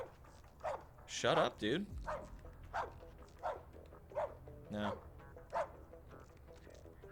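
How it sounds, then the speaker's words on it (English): Repeated sharp, close dog barks from the video game Barkour come in short bursts throughout, with someone talking over and between them. "I really can't even talk while this dog's barking."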